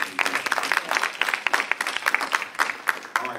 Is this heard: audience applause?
yes